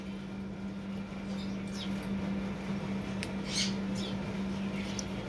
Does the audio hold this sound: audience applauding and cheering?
no